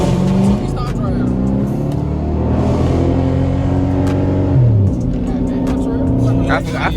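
A muscle car driven on city streets, its engine growling and revving through gear changes, loud and close throughout while people talk inside the car.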